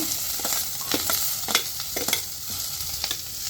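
Onions and green chillies are stirred in a frying pan, with a steady sizzle under rhythmic scrapes and taps of the spatula against the pan.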